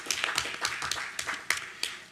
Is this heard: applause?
yes